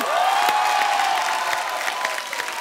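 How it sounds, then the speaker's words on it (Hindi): An event crowd applauds and cheers in welcome for actor Nawazuddin Siddiqui, with steady, loud clapping and a whistle ringing out at the start. "आप सबकी जोरदार तालियों के बीच प्लीज वेलकम मिस्टर नवाजुद्दीन"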